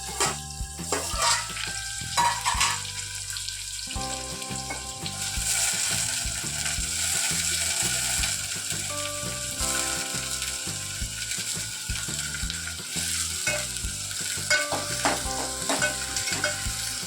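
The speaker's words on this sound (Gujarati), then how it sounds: "પહેલાં તો ડુંગળીનો વઘાર કરવાનો" Chopped onions fry with cumin seeds in hot oil for a Gujarati ringan nu oro (eggplant bharta), a steady close sizzle broken by repeated scraping and clattering stirs against the pan, with no talking.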